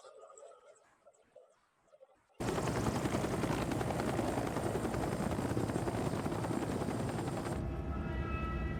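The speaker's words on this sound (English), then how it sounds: "Nice, nice old Russian helicopter, though" After a quiet moment with faint sounds, a loud, steady drone of an old Russian helicopter with chopping rotor noise suddenly starts and runs continuously before cutting off.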